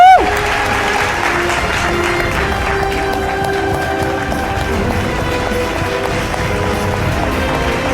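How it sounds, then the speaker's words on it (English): A big audience at an awards ceremony applauds loudly and continuously, a dense roar of clapping mixed with sustained musical tones and crowd cheering in a large hall. "A huge round of applause, please."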